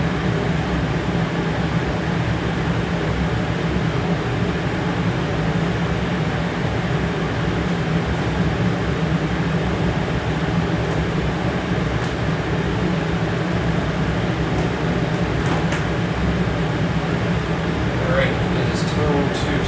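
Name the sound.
air conditioner running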